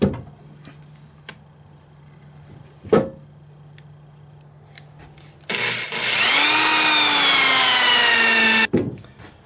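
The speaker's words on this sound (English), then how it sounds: "This part right here that I just drilled will end up being the top of the bowl when all said and done." A drill bores into an ambrosia cherry wood bowl blank. A few sharp ticks and knocks come first, then a loud, steady, high motor whine holds for about three seconds before cutting off abruptly.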